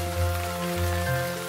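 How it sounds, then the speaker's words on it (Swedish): Cartoon rain falls outside as a steady patter on surfaces, blended with a soft musical backing. "Det regnar ute."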